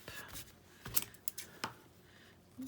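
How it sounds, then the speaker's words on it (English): Scissors snipping through felt and fabric while making journal covers, several short crisp cuts spaced irregularly, close and fairly quiet. "start with a snip"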